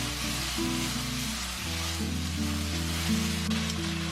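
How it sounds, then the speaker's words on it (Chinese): Chicken wings sizzle as they are stir-fried over medium-high heat in hot oil, a steady close hiss under background music with sustained tones, and no speech. "我们就可以加入这个鸡翅，保持中大火煸"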